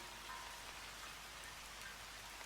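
Rain falls steadily on a morning, making an even, dense hiss with soft patter and no distinct drops standing out. It sounds moderately close and continues unbroken, with no voices.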